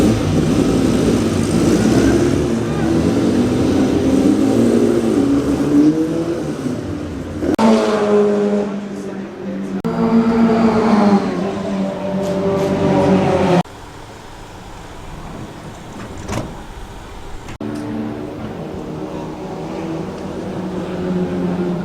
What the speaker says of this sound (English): Quite a few Mark 1 MX-5s are out and about testing today here at Oulton Park.